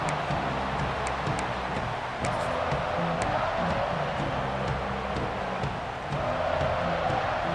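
A stadium crowd in the EA Sports College Football 26 video game, at an Oregon Ducks game, keeps up a steady distant roar and murmur with a few sharp ticks on top, continuous throughout.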